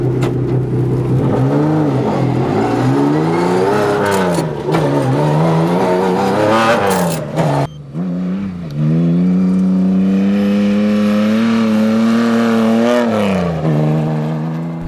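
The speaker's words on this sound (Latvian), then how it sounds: "mēs esam Jāņa Nagļa automobīlī, un tu parādīsi, kā izskatās no iekšpuses, kad brauc" Race car engine heard from the cabin, driven at moderate pace rather than full racing mode: a loud, steady drone that rises and falls with throttle and gear changes, with a brief dip midway and no talking.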